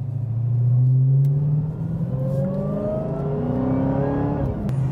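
A 2018 Dodge Charger SRT Hellcat's supercharged V8 on a busy highway, a deep rumble that climbs as it accelerates while a rising supercharger whine sweeps upward, heard steadily from inside the car without talking.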